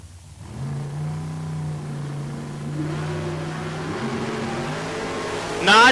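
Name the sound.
Mopar and Ford drag race cars racing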